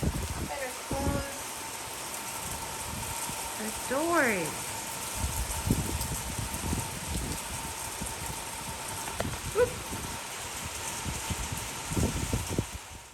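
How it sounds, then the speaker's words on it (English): Heavy rain falls outside with a steady, soft hiss, while a person speaks briefly nearby over it. "serious rain."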